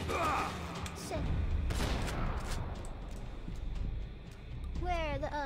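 Repeated bursts of gunfire from Max Payne 3 crack and rattle through the game's mix, loud and close, alongside a voice speaking over parts of the shooting.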